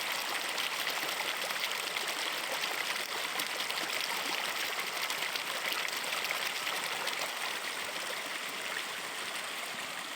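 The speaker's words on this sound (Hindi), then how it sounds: "यहाँ पर भी ये देखें पानी की नाली मौजूद है" Water rushes steadily through a stone irrigation channel near Trarkhel waterfall in Sudhnoti, a constant close hiss and babble with no pauses.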